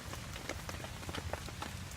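Rain pattering at a wet campsite, soft steady drops and faint taps on surfaces, quiet and continuous.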